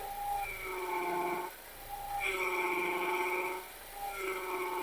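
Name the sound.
Ford Mondeo power steering whine as wheel is turned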